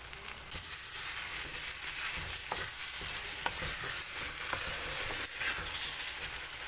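Tomatoes and onions fry in a pan with a steady hiss and regular stirring clicks, quiet and continuous, with no one talking.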